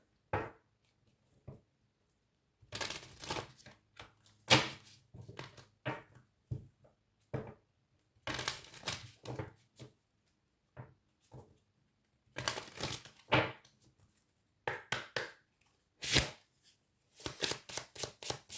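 Oracle cards being shuffled and drawn by hand, a series of crisp riffling and slapping bursts in irregular clusters, close and fairly quiet, with no talking.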